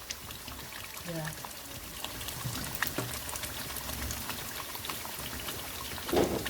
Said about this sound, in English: Bubbling away.